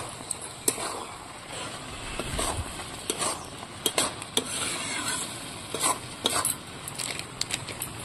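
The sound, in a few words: stirring egg dal frying in a pan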